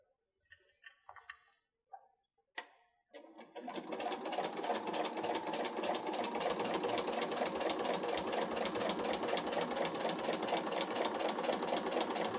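A sewing machine stitches a water-resistant picnic blanket. A few faint clicks and handling noises come first, then a steady fast whirring run of stitching starts near the three-second mark and carries on to the end.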